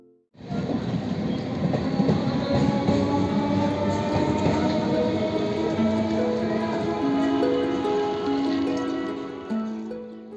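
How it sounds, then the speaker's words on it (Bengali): A train heading toward Purbasthali rolls steadily along the rails, a loud continuous rumble with rhythmic clatter and squealing wheel tones that rise in pitch, heard up close from aboard. "ট্রেন ছুটে চলেছে তার নিজস্ব তালে।"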